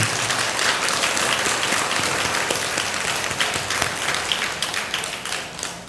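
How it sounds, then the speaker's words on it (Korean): Sustained applause from an audience at a Buddhist temple service, steady and dense clapping that holds loud for several seconds before thinning slightly toward the end. "큰 박수 한번 보내주시기 바랍니다."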